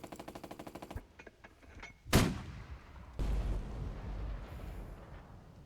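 Artillery fire support in the WWII strategy game Burden of Command: a rapid string of gunshots, then a loud close explosive blast near the middle, followed by a sustained low rumbling barrage of shelling.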